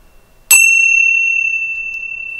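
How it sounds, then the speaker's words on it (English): A single bright chime from small tabletop chimes struck once, ringing clearly and sustaining with a long, slowly fading shimmer in an otherwise quiet room. "what these little chimes are that ring here on the table"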